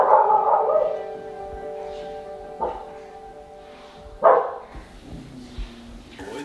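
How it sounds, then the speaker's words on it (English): Dogs barking under a house, opening with drawn-out whining howls and followed by a few sharp, separate barks that sound muffled and somewhat distant. "the dogs were just barking under the house"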